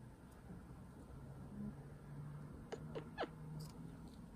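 A pet cat makes faint, brief meow-like calls near the end, a few short upward-sweeping cries over a steady low background hum.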